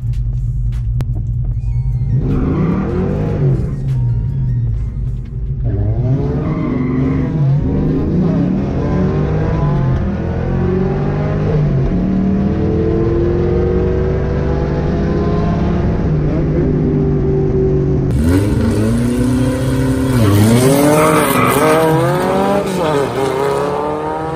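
A Ford Fox Body Mustang, freshly dyno-tuned, roars loudly through a drag strip run, its engine note climbing and shifting through repeated rising revs with some tire noise and a sharper surge near the end.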